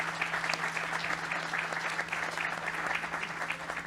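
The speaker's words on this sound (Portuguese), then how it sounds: "Parabéns, palmas para a Joyce." An audience at a book fair applauds the author Joyce, a dense and even round of clapping that holds steady throughout, with no voices over it.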